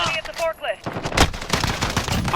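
Rapid gunfire from an FAL rifle in Modern Warfare, a close, loud burst of repeated shots with game effects sounding just before.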